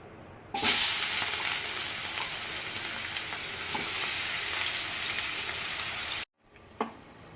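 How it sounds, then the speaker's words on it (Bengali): Besan-coated pointed gourd and potato pieces fry in hot oil, making a loud, continuous crackling sizzle. It starts abruptly, holds steady for several seconds, cuts off briefly, then returns with a short burst. "কাঁকরোলগুলো ভেজে নেব এবং তার সাথে আলুগুলো ভেজে নেব"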